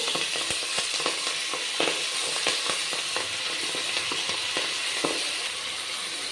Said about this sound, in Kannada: ಇದನ್ನು ಸ್ವಲ್ಪ ಫ್ರೈ ಮಾಡ್ಕೊಳ್ಳೋಣ ಎಣ್ಣೆಯಲ್ಲಿ